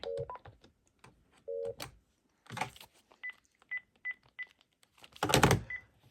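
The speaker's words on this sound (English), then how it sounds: "menu pound star 161 for the base" A Panasonic KX-TG5583 cordless phone beeps as keys are pressed on its keypad for a menu code, with several short tones and a few clicks and handling bumps near at hand.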